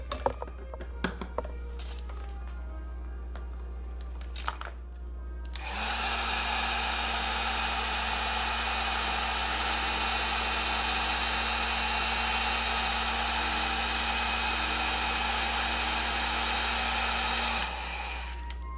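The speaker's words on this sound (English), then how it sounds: "Now I'm gonna grab my heat gun, and we're gonna shrink it down." A heat gun shrinks heat-shrink tubing over diodes during a guitar build. A few small clicks and handling noises come first, then the gun roars on as a steady, loud blowing whine for about twelve seconds before it cuts off.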